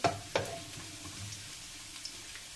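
Potato being stir-fried with tempura in a pan, with soft, quiet sizzling and a couple of sharp utensil knocks near the start, then a faint frying hiss.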